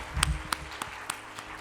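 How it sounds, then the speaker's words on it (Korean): Scattered applause from a church youth worship congregation after a worship song, a handful of sharp distinct claps spaced unevenly across the moment, moderately near, fading into quiet room tone. "귀한 찬양 나눠준 우리 지은이에게 격려 박수 하겠습니다"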